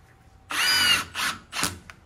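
A power drill drives a screw into composite cladding on steel stairs, heard close and loud as one longer whirring burst followed by two short tightening pulses, with no voices.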